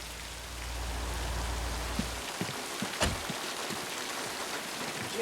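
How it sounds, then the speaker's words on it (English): Heavy rain pours in a steady, close hiss from Psycho (1960); a low rumble under it cuts off after about two seconds, leaving the dense downpour with a few scattered knocks and drips. "Gee, I'm sorry I didn't hear you in all this rain."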